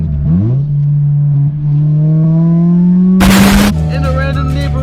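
Honda Civic engine droning steadily while driving, its pitch rising gradually and evenly, loud and close, with a brief harsh roar burst near the end.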